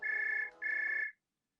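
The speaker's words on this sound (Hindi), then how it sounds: "मौके का फायदा उठाकर उन्होंने माया को फोन लगाया।" A telephone rings in two short electronic bursts as a call is placed, each lasting about half a second, followed by silence. The tone is faint and thin, and no voices are heard.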